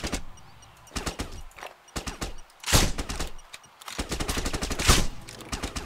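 Gunfire in Sniper: Ghost Warrior 2, jungle level: rapid bursts of automatic shots with two louder, heavier blasts standing out, close and sharp against a quieter game background.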